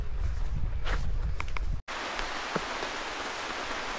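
Steady rain falls through a forest on a trek in Lama, Bandarban, a dense pattering wash broken by a brief gap, with occasional nearby knocks and rustles.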